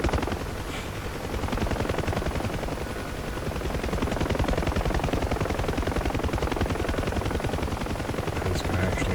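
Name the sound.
helicopter rotor in DCS flight simulator video game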